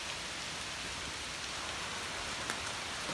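Heavy rain pours in a dense, constant hiss of drops hitting surfaces, loud and even throughout, with no voices.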